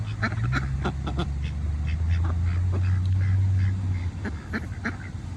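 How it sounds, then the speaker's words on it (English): Ducks quack repeatedly close by outdoors near flowers, a steady run of loud nasal calls with overlapping honking tones throughout. "All these crazy ducks come over here."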